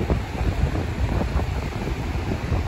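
Strong sea wind blows across Touquet beach in France, loud rumbling gusts buffeting the microphone over the roar of surf, continuous and close throughout with no speech.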